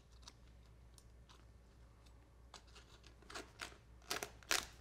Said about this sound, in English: I'm just going to snip this one time with my scissors